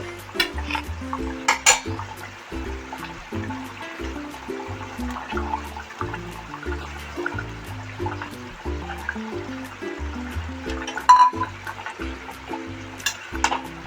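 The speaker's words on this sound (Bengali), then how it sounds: "আমার ঝোলটা ফুটে গেছে। এবারে আমি ডিমগুলো দিয়ে দেবো।" Fish eggs stirred into boiling curry with potatoes in a pot, a gentle bubbling simmer under clinking spoon-against-pot scrapes and occasional metallic knocks, fairly quiet and close.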